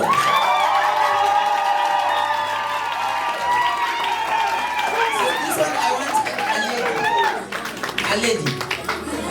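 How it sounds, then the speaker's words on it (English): Guests at an optometry students' dinner clap and cheer, with lively crowd chatter and raised voices mixing into the applause over several seconds before it thins out. "Ladies and gentlemen, let us give her a clap for Dr."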